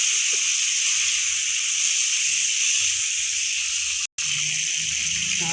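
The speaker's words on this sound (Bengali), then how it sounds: "এখন আমি পেঁপেগুলি দিয়ে দেবো। ভালো করে নাড়াচাড়া করে" Papaya pieces sizzle in a hot pan with shahi jeera, a loud steady hiss running throughout, with soft scraping stirs underneath and a brief cut near the end.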